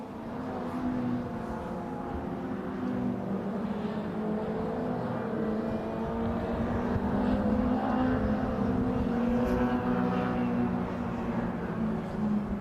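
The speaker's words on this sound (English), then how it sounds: "There is Oshin in the green car, just going down" Race cars lapping a circuit at an MG Car Club race, a steady loud engine drone with shifting pitch as cars pass, continuous throughout.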